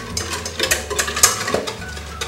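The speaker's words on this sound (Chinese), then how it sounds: "边搅拌边加，加入纯牛奶" A whisk stirs cake batter of egg yolks, sugar and oil in a bowl as milk is added, producing a close, rhythmic series of soft scraping strokes with a light clink.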